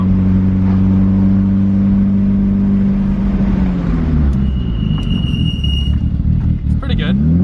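A Mitsubishi Evo 5 with a track setup slows hard in a quick braking stop, its engine note dropping steadily from a loud in-cabin drone, with a brief high tire squeal near the end.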